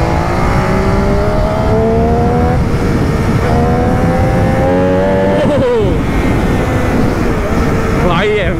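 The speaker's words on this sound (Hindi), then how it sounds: "थ्रॉटल देते ही बाइक हवा में उड़ने के लिए तैयार हो रही है" An MV Agusta motorcycle revs as the throttle opens, its loud, close engine note repeatedly climbing and dropping in pitch, with a final sharp rev near the end.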